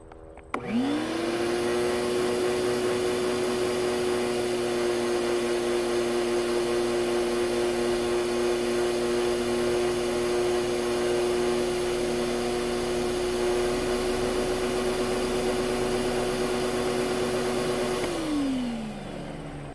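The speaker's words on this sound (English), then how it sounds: "next I just have to use my special shop vac attachment and vacuum all the air out of that" A shop vac with a special attachment draws air out of an inverted aquarium dome, a steady loud motor whine starting abruptly, holding a constant pitch for about seventeen seconds, then winding down at the end, with no talking.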